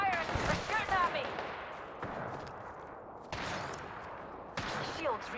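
Gunfire in the Apex Legends video game rings out in bursts of rapid shots, loud and close, mixed with game effects and spoken chatter.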